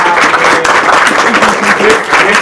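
Audience applause at a comic shop panel discussion on Star Wars Rebels, a dense, steady patter of many hands clapping throughout, loud and close with some crowd murmur mixed in.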